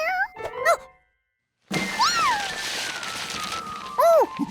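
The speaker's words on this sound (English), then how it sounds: "His job was to watch Professor Wiseman's new kitten, Lucky, who was too young to take care of himself." Cartoon kitten meowing in short, high, rising-and-falling cries, heard a few times amid jingling music, with a brief silent gap early on.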